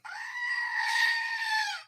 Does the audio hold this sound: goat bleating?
yes